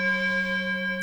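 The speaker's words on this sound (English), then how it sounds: "mindfulness bell" A mindfulness bell struck once, its long steady ringing tone with clear overtones sustaining evenly and alone before fading at the very end.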